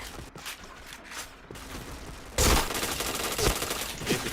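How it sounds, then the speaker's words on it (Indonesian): Rapid automatic gunfire in the Point Blank shooter game bursts in loudly after a quieter stretch of scattered game sounds and footsteps, continuing as a dense, sustained volley to the end. "Antri, tembak Roy"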